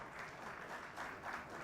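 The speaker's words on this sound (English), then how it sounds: "please give them a bigger round of applause" Steady applause from a conference audience at the close of a session on building a futuristic digital infrastructure, a dense wash of clapping throughout with no speech over it.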